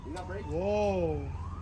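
A police car siren giving a short wailing rise and fall, moderately close, with speech around it.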